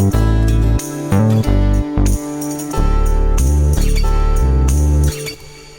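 A mellow Rhodes electric piano plays chords over a deep, punchy bass line, layered with a looping sample, loud and full without any voices.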